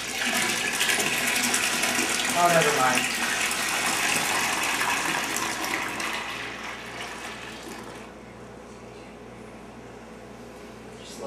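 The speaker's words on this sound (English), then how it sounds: "Now I'm going to add this wort here to the fermenter down there" Homebrewed beer wort is poured from above into a fermenter already holding water, a loud rushing gush for several seconds that tapers off into quieter trickling, with a brief spoken remark in the middle.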